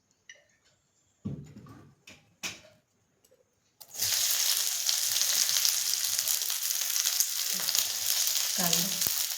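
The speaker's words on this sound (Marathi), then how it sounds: "आता आपण कांदा भाजणार आहे." Onion roasting in a pan for a Maharashtrian bhaji: after a few faint clatters and stirs, a loud steady sizzle starts and keeps going close up, with occasional stirring bumps.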